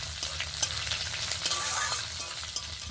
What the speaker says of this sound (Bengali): এবারে সব কিছু একটু নেড়ে চেড়ে নরম করে নেব।